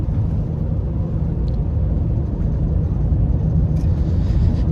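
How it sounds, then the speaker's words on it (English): A steady low engine rumble with droning exhaust tone from a Subaru Forester XT with stock exhaust, constant and fairly loud throughout, no voices. "It's a stock exhaust, so you're probably not going to get too much excitement in terms of sound"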